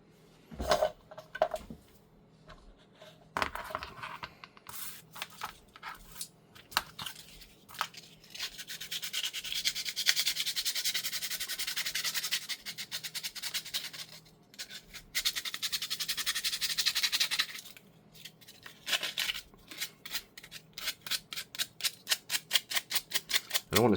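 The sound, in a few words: sanding plastic pieces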